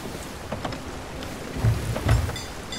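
Steady rain with low rumbling thunder swelling twice near the end during a storm at sea in Sea of Thieves, a sloop crew's boat caught in it.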